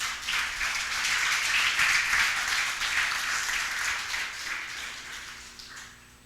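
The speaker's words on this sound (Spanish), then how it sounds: "¿Por qué no le da un aplauso al Rey de Gloria?" A church congregation applauds in a dense, continuous wash of clapping that swells and then slowly fades, with no speech over it.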